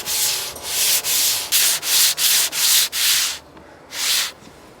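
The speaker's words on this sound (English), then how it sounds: "sand everything down to make sure it's nice and flush" Sandpaper rasps back and forth across wood in about eight steady, even strokes, close up, with a short pause before the final pass.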